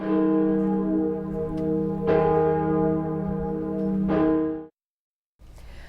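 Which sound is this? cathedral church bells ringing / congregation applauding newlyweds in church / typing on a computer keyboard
cathedral church bells ringing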